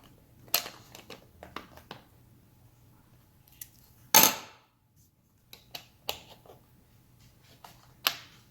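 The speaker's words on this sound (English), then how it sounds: "these small T20 screws that we had, we will screw these back in here" Small T20 screws are driven back into a steering wheel bezel on a 2012–2014 Dodge Charger, heard as scattered light metallic clicks and taps at close range, with one sharper clatter partway through.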